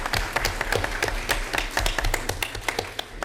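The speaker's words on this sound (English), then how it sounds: "a round of applause" Audience applause at a school board meeting: a steady run of many hands clapping, moderately loud and close, lasting a few seconds with no talk over it.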